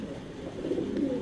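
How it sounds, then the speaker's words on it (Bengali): A golden-eyed racer pigeon, a hen of an original line, coos softly and steadily for about a second, a low murmuring call heard close by with no voices. "এটা হলো গোল্ডেন আইসের একটা কবুতর"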